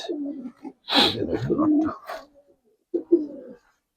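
A Giribaz pigeon being released, with short soft coos at the start and end around a louder burst of flutter and handling noise in between.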